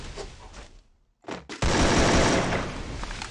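AK rifle fire in a shooting video game, a Blue Dragon or Unicorn AK, comes first as a few short bursts, then a brief pause, then a long, loud, continuous stream of rapid shots.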